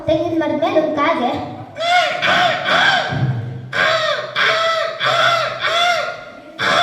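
A person's voice mimics a crow cawing from a coconut tree, a run of harsh, rapid repeated caws in two bursts, loud and close.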